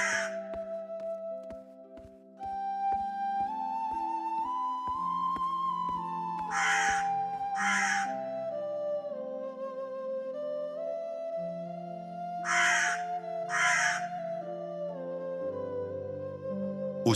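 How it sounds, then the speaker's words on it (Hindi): A crow caws several times in pairs over a steady musical backing with sustained tones and a plucked rhythm, the calls loud and close. "जब जमींदार रघुवीर गांव में आता, कौवा उसके सामने आकर पेड़ पर बैठ जाता।"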